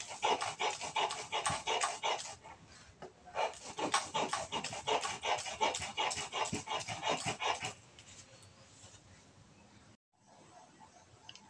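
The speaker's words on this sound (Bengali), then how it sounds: "শিলনোড়ায় একটু আমি বেটে নিচ্ছি।" Sesame paste ground by hand on a stone slab with a stone roller (shil-nora) gives a close, rhythmic rasping of quick repeated strokes. There are a few short pauses and no talk.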